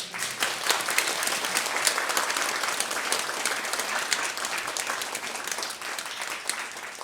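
A church congregation applauds loudly and continuously, dense clapping from many hands filling the space with no talk over it.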